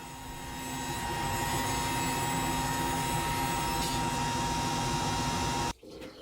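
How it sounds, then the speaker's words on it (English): A track saw cuts through 3/4 inch plywood in a workshop, giving a loud, steady motor whine with cutting noise that holds for several seconds, then stops abruptly near the end, leaving a brief quieter tail. "I'm using the track saw here to go ahead and cut some 3/4 inch plywood down into more manageable pieces"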